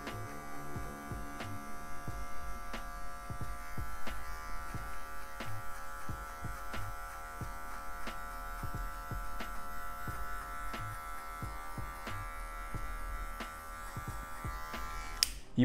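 Electric hair clipper without a guard cuts afro hair for a fade, a steady close buzz with repeated soft snips and strokes as the blades pass through the hair, no talking.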